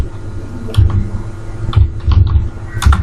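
A name is typed on a computer keyboard in a short run of uneven keystrokes, close and fairly clear, set against a steady low hum.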